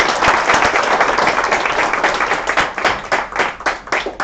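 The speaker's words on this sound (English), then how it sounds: "give a big applause to Risto" An audience at an event gives loud, close applause, a dense burst of many hands clapping that holds steady and then slowly thins, with no voices over it.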